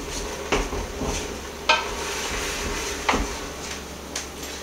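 A metal utensil scrapes the bottom of a chili pot with seared, burnt bits, producing several short, distinct scraping clunks spaced about a second apart over a steady low background hiss.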